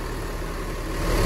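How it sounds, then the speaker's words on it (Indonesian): Bus engines idle together in a depot yard, a low continuous rumble that swells slightly toward the end. "Semua bus dihidupin."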